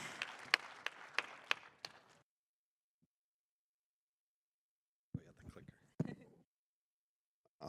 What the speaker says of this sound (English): big round of applause for Maxwell.